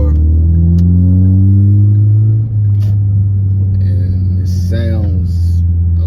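A Kia Optima with a straight-pipe exhaust running from the mufflers back to the tips, its engine droning loud and close with a rising rev, then settling into a steady rumble as people talk over it.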